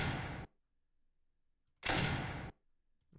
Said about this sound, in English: we import our door sound